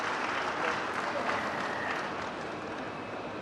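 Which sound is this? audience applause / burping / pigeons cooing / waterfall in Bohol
audience applause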